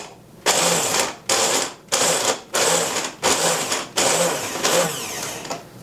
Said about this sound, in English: It's a little mini mixer, and ginger is so hard to grate, and this does it effortlessly.